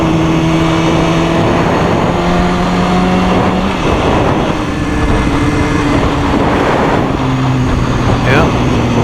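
A 2015 BMW S1000RR sportbike engine runs on a test ride, a loud steady drone with shifting pitch as the revs change, plus heavy wind noise, continuous and close throughout.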